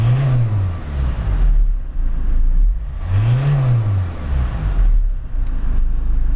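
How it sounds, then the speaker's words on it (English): A Ford Transit 350 Luton van engine revs up to 3000 rpm and settles back down twice, a loud, close rise and fall in pitch over a steady idle. "I'll give it a couple of revs up and down. Up to 3000 and back down."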